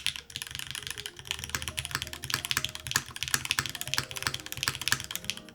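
Steady rapid typing on a Touchstone full-size mechanical keyboard, crisp clacky keystrokes in an even rhythm, close up and alone with no talking.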